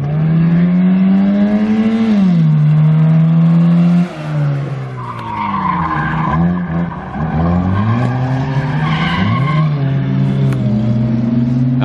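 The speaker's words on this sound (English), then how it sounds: "A demolition derby car and he's freaking ripping it." A loud engine of a light, gutted Honda Civic demolition derby car revs hard and repeatedly, pitch rising and falling as it screams through gears, with tire squeal mixed in, close and continuous.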